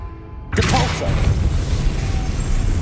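Depulso force spell cast in Hogwarts Legacy, a sudden loud burst of blasting energy with a sharp crash onset, followed by a sustained rumbling wash of noise that lingers for a couple of seconds.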